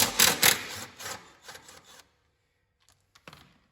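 A 10mm socket wrench ratchets a bracket bolt off a John Deere transmission, giving a few quick bursts of close, raspy clicking that stop after two seconds, followed by a couple of faint metallic taps.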